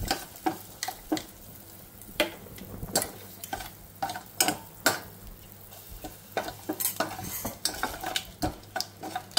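Leaves frying in a pan while being stirred: a quiet sizzle under repeated sharp scrapes and clicks of a spoon against the metal, irregular and close, with no talking.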